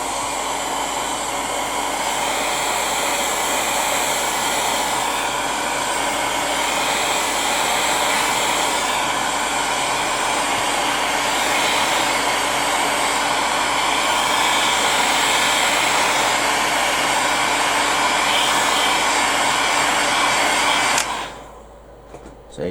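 Heat gun blowing hot air onto an iPhone 8 Plus frame during a glass repair, a loud, steady fan roar held constant for about twenty seconds before cutting off abruptly.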